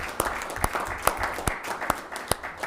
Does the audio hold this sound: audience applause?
yes